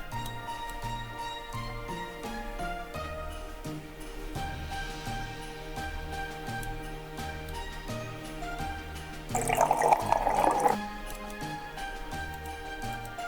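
In the Cooking Simulator video game, liquid is poured into a mashed potato pot. A burst of splashing, trickling pour lasts about a second over looping background music, with faint dripping sounds before it.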